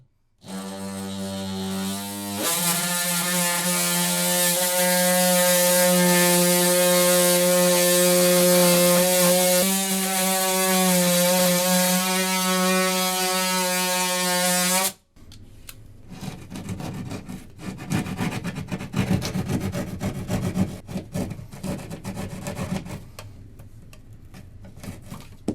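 A powered tool cuts a hole in drywall for an outlet box: a loud whining tone with shifting pitch runs for about twelve seconds, then gives way to rougher, irregular scraping and cutting noise.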